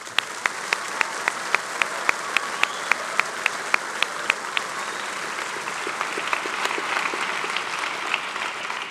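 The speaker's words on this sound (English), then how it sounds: "Let's give another round of applause for those students." Applause for students at a 2013 high school graduation ceremony, a large crowd clapping steadily with a few sharper single claps standing out early, then settling into a dense, even wash of clapping.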